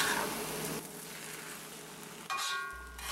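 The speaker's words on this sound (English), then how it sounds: "all we have to do is stir the mushrooms until they're cooked" Mushrooms sizzling and being stirred in a hot wok for a stir-fry hash, a steady soft hiss with a couple of louder scraping stirs, fairly quiet and with no voices.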